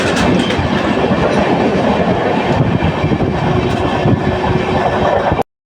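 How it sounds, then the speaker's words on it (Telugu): A passenger train on the Guntur to Ernakulam route speeds through a station with a loud, dense rumble and rolling wheel clatter, close and constant until it cuts off abruptly. "స్టేషన్లోకి వస్తే స్పీడ్ వెళ్తుంది"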